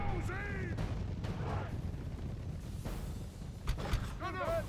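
Artillery fires in a Lord of the Rings-themed strategy game battle, with a few dull booms and impacts, and murmuring voices and sweeping whistles mixed into a continuous noisy backdrop.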